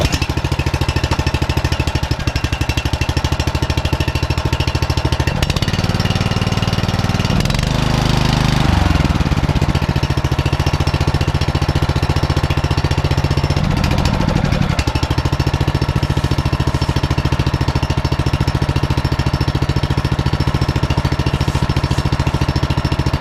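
Small engine on homestead equipment cranking, catching and running loud and close, a steady droning idle with a stretch of rougher, shifting revving partway through.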